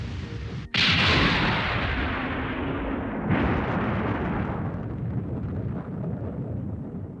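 Anime sound effect of a huge explosion that sinks Austral island: a sudden massive blast, then a second surge of roaring force, fading into a long, heavy rumble.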